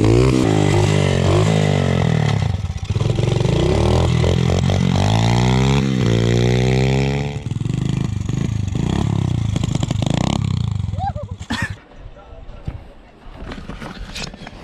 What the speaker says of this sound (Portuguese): ele não tá conseguindo ligar a moto